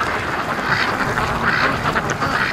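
Free-range ducks near a lake quack in alarm at a hawk passing overhead, a dense, loud, continuous chorus of overlapping calls from several birds close by, with no pauses.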